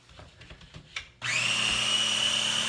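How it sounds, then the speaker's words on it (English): A countertop blender whirs steadily, mixing key lime pie filling; faint clicks and handling come first, then the motor starts abruptly with a high whine and runs loud and continuous to the end. "And we just mix it up here as it's going. It's blending, it's getting it less lumpy."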